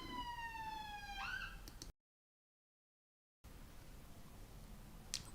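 An emergency vehicle siren wails outside with a sweeping tone that drops away, faint and distant. Silence follows, then quiet background noise.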